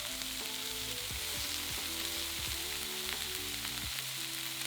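Bean sprouts and garlic frying in a hot pan for vegetable spring rolls, giving a continuous dense sizzle with soft stirring knocks underneath, close and even in level.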